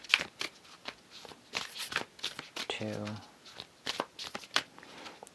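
Tarot cards shuffled in quick riffling bursts, repeated across the moment, close and crisp, with a person talking over them.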